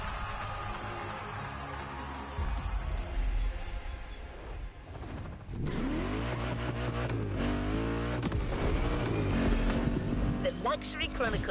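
Bugatti hypercar engine in The Crew Motorfest, droning steadily and then surging into revving, shifting acceleration, with a voice talking over it throughout.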